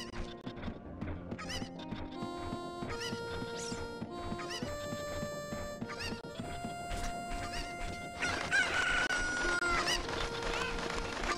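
Chickens cluck and crow in Zelda Ocarina of Time, with overlapping squawks and clucks at a lively, busy pace alongside a steady game music melody.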